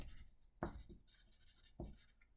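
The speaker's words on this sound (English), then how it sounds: "I better write this down" Pen or pencil strokes on paper while sketching circle ideas for a drawing prompt, a couple of short scratchy marks close up with quiet pauses between.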